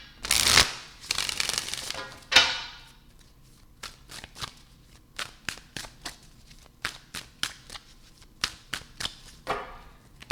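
Tarot cards are shuffled close by in a few riffling bursts, followed by a run of quieter, irregular snaps and taps as the deck is handled.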